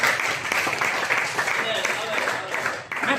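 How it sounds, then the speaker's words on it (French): A church congregation claps and cheers together in praise, a dense, steady wash of applause filling the room for a few seconds. "Acclamons le Seigneur."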